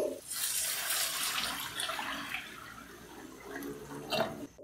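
Water poured from a glass into a cooking pan with a roasted mint and potato kebab mixture, making a steady, fairly loud splashing rush that tapers off, ending with a brief clink.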